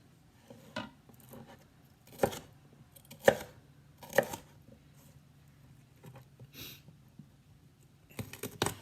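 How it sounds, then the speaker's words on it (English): A knife chops green pepper strips into bite-sized pieces on a cutting board, a handful of sharp, close, separate knocks spaced irregularly, quick paired chops near the end, in a quiet room. "we're just gonna cut them up into bite-sized pieces"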